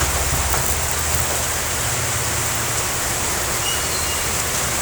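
Heavy rain pours steadily in a school-day downpour, a dense continuous roar with low rumbling underneath, loud and close with no voices.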